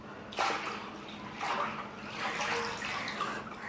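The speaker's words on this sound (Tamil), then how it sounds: "அதே மாதிரி கரைச்சி வச்ச சர்க்கரை தண்ணியே மூத்துவோம்" Dissolved sugar water is poured into a cooking pan for coconut dodol, a soft splashing trickle in a few short bursts, fairly quiet and close with no talk.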